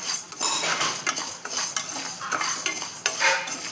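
A metal spoon scrapes and taps against a pan, stirring white urad dal as it dry-roasts, with a busy irregular clatter and faint grainy rustle close up and no voices.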